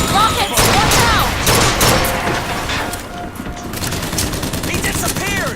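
Dense gunfire and explosive rocket blasts erupt in the video game Bioshock Infinite, loud and close in rapid bursts, with shouting voices over the combat.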